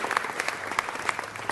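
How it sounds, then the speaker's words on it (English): An audience at a city council meeting gives a short round of applause, moderately distant clapping with a few sharper individual claps standing out. "let's give another round of applause for all of the folk at the fair"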